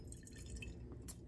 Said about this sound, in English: Allow the coffee to pour through the Quaver dripper until you are sure that it is done.